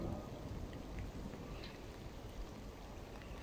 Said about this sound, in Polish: Deszczyk sobie szemrze.